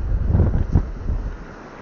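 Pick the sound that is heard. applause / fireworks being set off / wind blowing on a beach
wind blowing on a beach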